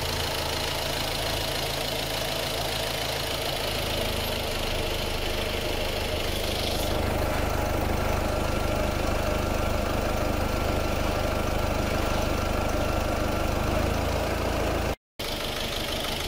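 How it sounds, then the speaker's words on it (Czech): A Ford C-Max 1.6 TDCi diesel engine with a faulty injector idles roughly and continuously, a steady low rumble with uneven knocking vibration, close by, with no voices. "Tak motor se nám stále chvěje"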